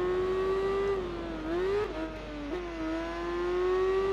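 A Kawasaki motorcycle engine in the Tourist Trophy racing video game hums at a steady high pitch, dipping and climbing through gear shifts in a clean, close drone with no voices.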